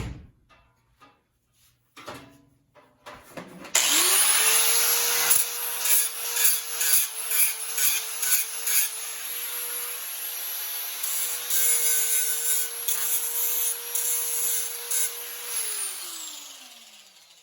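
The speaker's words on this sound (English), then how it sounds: "first we're gonna use an angle grinder. Scratch up conductive surfaces." An angle grinder scratching up the conductive surface of a 50 cal ammo can before a weld repair on a camp stove: a sustained, loud, close whine with a steady pitch that spins down at the end, preceded by a few handling knocks.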